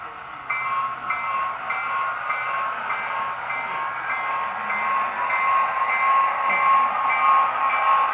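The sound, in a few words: model train running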